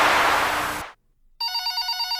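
In the Five Nights With Mac Tonight video game, a loud burst of noise cuts to brief silence, then a phone starts ringing with a bright, pulsing electronic trill.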